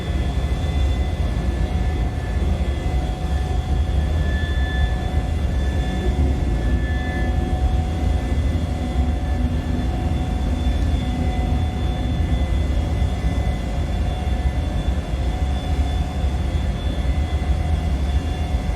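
An Embraer E190 airliner in a flight simulator climbs out after takeoff: a steady, loud engine roar with thin whining tones held level throughout, unbroken and without voices.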